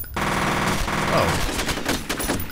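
Rapid automatic gunfire in the shooter game F.E.A.R., a dense, loud burst of shots running continuously through the moment with a music bed beneath.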